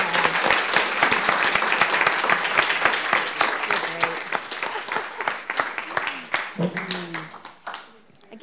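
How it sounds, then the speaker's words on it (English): A large audience at a poetry reading applauds loudly and steadily, the clapping thinning out toward the end with a few voices mixed in. "a big round of applause for Campbell McGrath."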